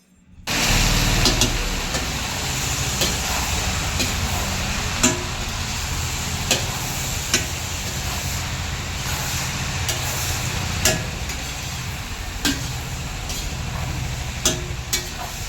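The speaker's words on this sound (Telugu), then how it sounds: "ఇప్పుడు గోరుచిక్కుడుకాయలని ఆయిల్లో బాగా ఫ్రై అవ్వనివ్వాలి." Cluster beans (guar) fry in oil with turmeric and garam masala, giving a steady loud roar of sizzling over broad noise throughout, with occasional sharp clicks from stirring and no talk.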